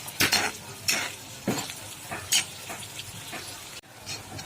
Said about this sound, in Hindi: अब इसे 5 मिनट तक अच्छे भूनने देंगे मसाले को, प्याजों को।